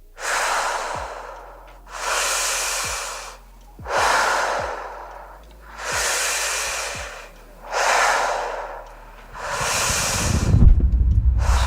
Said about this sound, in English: Shit, breathing hard as hell.